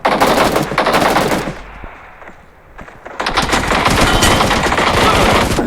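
Automatic gunfire in the PUBG Mobile shooter game rattles in loud rapid bursts, breaking off for about two seconds before another long sustained burst resumes.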